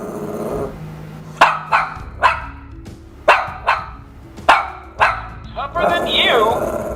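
A dog barks in a series of sharp, close barks, about eight in quick irregular succession, with a low growl at the start and a rough yelping flurry at the end.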